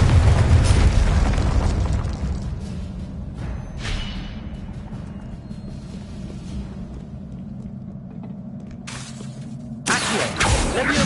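Confringo fire spells burst in the wizarding game Hogwarts Legacy, a loud booming blast at the start fading into rumble, then a smaller pop and a sharp crackling burst near the end, close and unaccompanied by speech.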